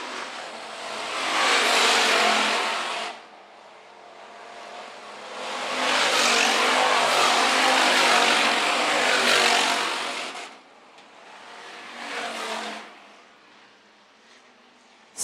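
Hobby stock race cars roar around a dirt oval raceway in a main event, engines swelling loudly as packs pass close by in three waves, with quieter gaps of distant engine drone between passes.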